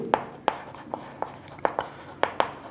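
Someone writes out the answer to a Class 6 fractions maths problem on paper or a board, with about nine sharp tapping strokes in an uneven rhythm, close and clear with no talk.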